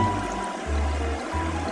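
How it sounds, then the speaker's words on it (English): Water from a Minnie Mouse toy sink trickles into a cup in close, gurgling pulses, running in three bursts separated by short gaps. "So I'm going to fill up this cup and then dip the silverware in it"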